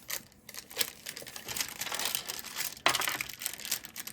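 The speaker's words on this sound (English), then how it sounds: "So fold paper back." Paper crinkles and crumples at close range as it is folded back during foundation piecing of a quilted butterfly block, with a sharper crisp rustle near the end and no talking.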